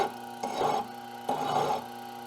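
A hand file rasps across the metal of an infill miter plane while bevels are shaped. It makes two distinct strokes, each a short scraping burst with a pause between, close and fairly quiet.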